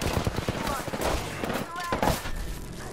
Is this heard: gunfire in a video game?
yes